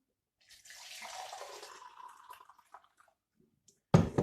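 Water poured from a tap onto grated potato for washing out the starch, a steady close splashing rush that thins into scattered drips, then a sudden loud clatter at the end.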